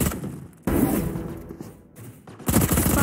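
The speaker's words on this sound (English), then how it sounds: "Swarm grenade out." Swarm grenade deployed in a Valorant match, a burst of rapid, loud popping thuds like gunfire that cuts in abruptly, dips briefly, then surges again near the end, with no talking over it.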